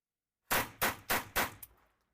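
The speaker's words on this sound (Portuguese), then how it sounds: "vamos terminar os últimos 5 tiros que nos restam" Four sharp .22 Short rifle shots crack out in quick, even succession, close and loud, followed by a short faint echo.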